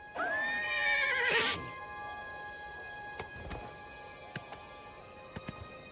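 A horse in the Oblivion Remaster game lets out one loud, quavering whinny that lasts about a second and a half. Afterward a few faint, scattered hoof clops sound over a steady low background hum.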